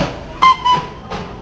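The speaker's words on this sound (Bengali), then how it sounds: "আমাদের টয় ট্রেন চলে গেল ঘুমে" The Darjeeling toy train pulls out, sounding short whistle blasts and rumbling with a few rail clanks as it moves off nearby, with no voices.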